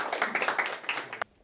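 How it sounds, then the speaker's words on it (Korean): Audience applause at a Korean memorial event honoring former student soldiers, a dense burst of clapping that holds steady for about a second and then cuts off abruptly. "큰 박수 부탁드리겠습니다."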